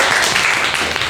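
Students in a classroom clap together in a short, dense burst of applause that fills the room, loud and close throughout.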